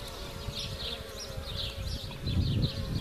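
Honeybees buzz around an opened top bar hive during a full inspection, a steady close drone with passing individual bees swelling louder near the end, no talking.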